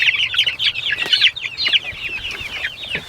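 Chickens on grass cluck and chirp in a busy, overlapping flock chatter close by, with soft rustling underneath.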